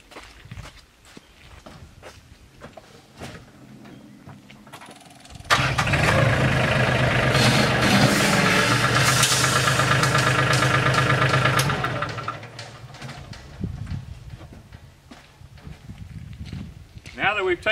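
A tractor engine starts and runs loud and close for several seconds while the bucket is lifted, then drops away, with footsteps and people talking around it before and after.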